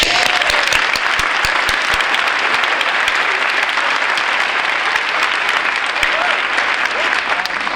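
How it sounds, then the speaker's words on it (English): A graduation ceremony crowd applauds the teachers, a loud, sustained wash of many hands clapping with a few sharp individual claps, and a voice faintly underneath. "So teachers, we applaud you."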